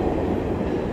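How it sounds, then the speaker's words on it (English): A low, steady rumble of a train rolling through a nearby train station, a dense mechanical drone with no pauses. "That's the train station, y'all."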